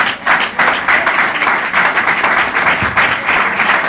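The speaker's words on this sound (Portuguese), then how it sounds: "as palmas são para o Senhor nessa noite" Loud, sustained applause fills a church service, dense steady clapping from a congregation with no pauses, close and enveloping.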